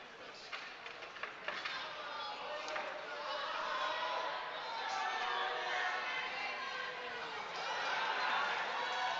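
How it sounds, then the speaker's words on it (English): A crowd cheers at the finals of the 2025 ACA lead and top rope provincial climbing competition, a sustained wash of shouts and whoops that swells again near the end, with voices mixed through it. "Crowd cheers for Ryan McGibney and Grace and Jax."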